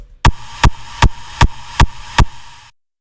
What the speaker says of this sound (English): I simply added a Valhalla room with the automation clip for a nice reverb tail